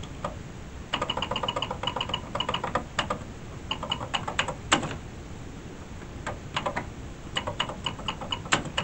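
Keys clack steadily on an Atari 800 computer keyboard as a short program is typed, close rapid bursts of key presses with brief pauses between runs.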